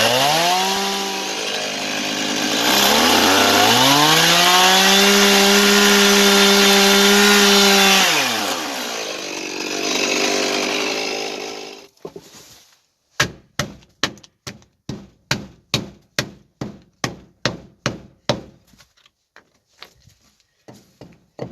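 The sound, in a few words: chainsaw cutting logs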